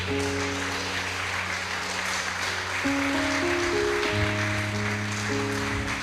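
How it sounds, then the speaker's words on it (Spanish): A church congregation at a Spanish-language service gives soft, continuous applause beneath sustained keyboard chords. The clapping holds a steady, distant wash throughout. "Bríndele una ofrenda de aplausos al que vive."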